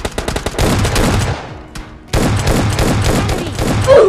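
Rapid bursts of automatic gunfire from the mobile shooter game PUBG Lite, loud and close, with a brief lull in the middle before the firing resumes in dense volleys.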